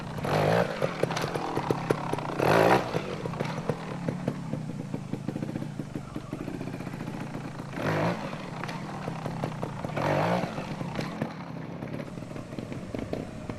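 A trials motorcycle is ridden using the throttle alone, its engine rising in sharp revving bursts over a popping, crackling idle, close by and repeated several times.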